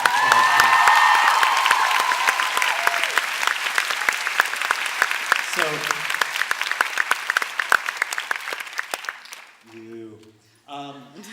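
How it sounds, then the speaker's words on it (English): An audience at a film premiere Q&A claps and cheers loudly at first, the applause thinning into scattered individual claps before speaking voices take over at the end. "she deserves a big cheer and applause"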